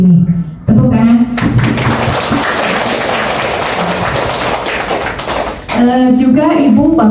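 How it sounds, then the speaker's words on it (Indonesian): Audience applause breaks out at the official opening of an educational dissemination event, a loud burst of clapping lasting a few seconds, with speech before and after it. "Tepuk tangan."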